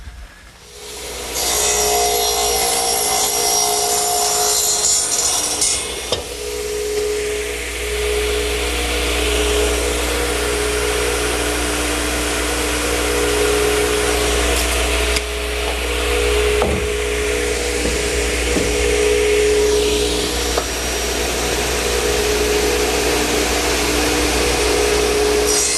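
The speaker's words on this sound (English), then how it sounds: "to the radial arm setup, I want to cut 3 pieces of 2x4" A radial arm saw runs loud and steady while cutting 2x4 lumber, with a broad whining roar for about twenty-five seconds and brief dips between passes.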